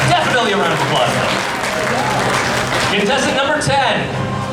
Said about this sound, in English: Definitely a round of applause though.